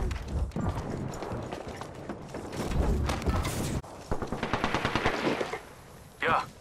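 Bursts of automatic gunfire in the battle royale shooter Apex Legends, rapid and loud, with a brief pause mid-clip, running footsteps and game sounds mixed in, followed by a sharp final burst.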